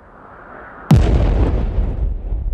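WeChat bomb emoji special effect: after a quiet moment, one sudden loud explosion bursts out, followed by a long rumbling roar that fades slowly, with no voices.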